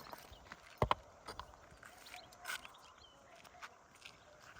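A few faint hoof clops from a stallion on hard ground, irregular and distant, with a couple of sharper knocks standing out against quiet outdoor background.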